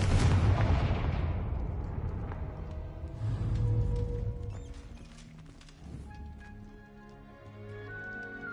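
A Confringo blasting spell explodes in Hogwarts Legacy with a loud, booming burst up front, followed by a second rumbling blast and fading magical chimes and debris, no voices over it.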